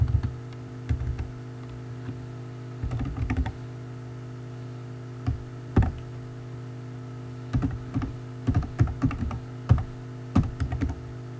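Bursts of typing on a computer keyboard, quick clustered key clicks separated by short pauses, close and clear over a steady low electrical hum, with no talking.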